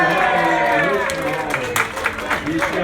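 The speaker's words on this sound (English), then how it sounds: "Let's hear it from the crowd." A crowd applauds and cheers at a Model T assembly team demonstration, loud and close, with a voice talking over the clapping.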